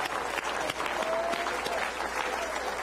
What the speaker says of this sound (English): let's just give the Lord an applause for our pastor